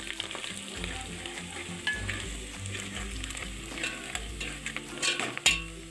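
Spices including turmeric, garam masala, kasuri methi and coriander powder go into a hot pan and are stirred, giving steady sizzling with scraping spoon strokes and clinks, ending in a sharper knock.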